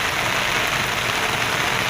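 Heavy rain pours down in a garden, a dense, constant roar of water hitting surfaces at close range, loud and unbroken throughout with no voices.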